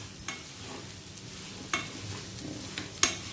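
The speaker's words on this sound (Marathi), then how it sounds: "छान व्यवस्थित असं ही भाजी परतून घेऊया" Purple yam (ratalu) sautéed and stirred in a pan for a fasting-day vegetable dish, with soft scraping strokes and a few sharp clicks over a low, steady sizzle; no talking.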